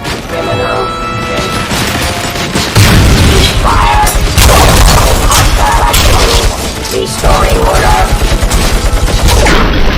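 Gunfire in the RoboCop: Rogue City video game: loud bursts of rapid shots and booming impacts that fire repeatedly after a brief calmer opening, with shouted voices mixed in.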